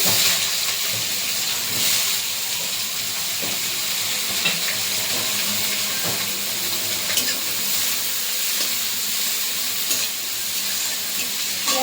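Onions, a bay leaf and whole garam masala fry in hot oil as a steady, even sizzle and hiss, close and continuous with faint stirring ticks and no voices.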